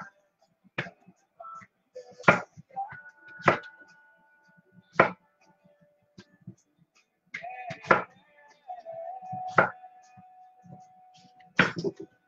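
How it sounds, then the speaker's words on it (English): Knife chopping potatoes on a cutting board in a home kitchen during meal prep, with sharp separate thuds spaced irregularly over quiet background hum. "So right now I'm just chopping the potatoes."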